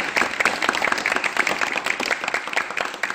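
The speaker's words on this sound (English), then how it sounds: "give a clap for Jamie and for B for helping me" Audience clapping at a UC event in Thailand, thanking event helpers: a dense, lively burst of many hands clapping close by, fairly loud and sustained throughout with a slight fade near the end.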